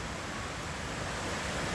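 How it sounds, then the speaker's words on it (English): Sol Duc River waterfall in a foggy forest setting, a dense, steady roar of rushing water that stays loud and unbroken throughout with no voices. "the sound of the falls behind you"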